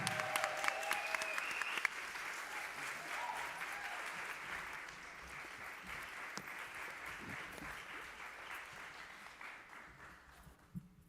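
An audience at an authors' summer reading panel breaks into sustained applause. The dense clapping stays fairly even for several seconds, then slowly thins and fades.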